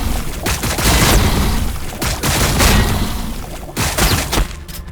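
Heavy gunfire and booms rumble through a Warhammer battle between Tyranids and Blood Angels, a dense, loud barrage of shots and impacts running continuously with little pause.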